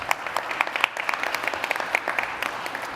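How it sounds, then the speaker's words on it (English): Audience clapping at a medical center staff recognition event in a hall, a dense continuous round of applause of steady loudness through the whole stretch. "so we want to give them a round of applause"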